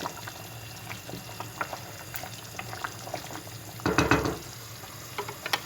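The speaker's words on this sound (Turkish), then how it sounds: "Mercimek yemeği pişiriyorum. Siyah mercimek." A pot of black lentil stew cooking on a gas stove, a steady soft bubbling and simmer with faint clicks and a brief louder stir or splash partway through.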